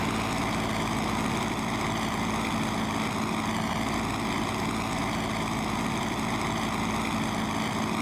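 A Curtiss P-40E Warhawk's engine and propeller run up on the ground, producing a loud, steady, throbbing drone with a droning propeller tone that holds constant and close throughout.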